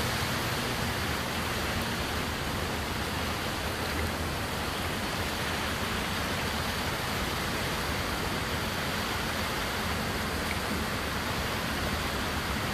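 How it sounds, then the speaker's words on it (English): A woodland creek running high after rain, a loud, steady broadband rush of flowing water close by, unbroken and constant with no voices. "I wonder if I can cross the creek without getting wet."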